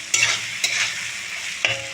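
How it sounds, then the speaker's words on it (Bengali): Onions frying in oil are stirred with a few distinct scraping strokes, each one setting off a burst of loud, close sizzling. "এখন ভালো করে নাড়িয়ে নেব যাতে পুরো তেলটা পেঁয়াজের মধ্যে ঢুকে যায়।"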